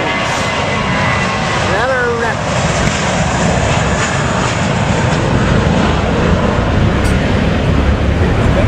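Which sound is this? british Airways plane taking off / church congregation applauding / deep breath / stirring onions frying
british Airways plane taking off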